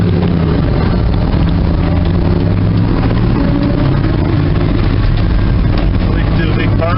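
A 1972 Dodge D200 truck's engine pulls loudly and steadily as it accelerates, a continuous dense drone filling the cab while someone speaks over it.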